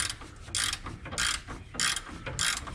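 Ratchet wrench tightening the top shock mount bolt on a Jeep Wrangler YJ, four short bursts of clicking ratchet strokes in a steady rhythm, close up.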